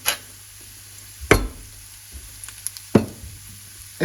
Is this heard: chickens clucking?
no